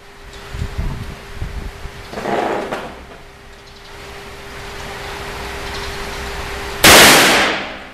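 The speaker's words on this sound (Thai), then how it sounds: "ผมจะยิง แผ่นหนึ่งและแผ่นสองครับ" .38 Colt Detective revolver fired at target plates. Handling noises and a muffled thump come first, followed by one sharp, very loud shot near the end that rings out and fades.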